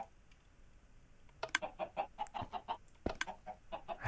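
Chickens in Minecraft cluck in quick, soft bursts after a quiet start, the clucks coming in close, uneven clusters at low volume with no voices.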